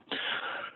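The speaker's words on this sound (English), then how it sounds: "I need to cough." A single short, breathy cough from a person lecturing on machine learning, close and fairly loud in a quiet room.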